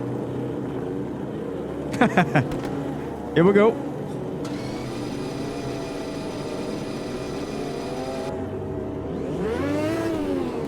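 A Lotus 98 Formula 1 car in the racing game Automobilista 2 starts up with short bursts of sweeping engine tone, settles into a steady hum, then revs up near the end; a voice speaks briefly.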